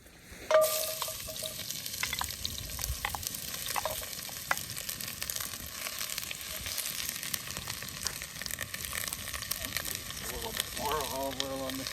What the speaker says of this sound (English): We're gonna add a little bit of olive oil and then throw this first bit of stuff in there.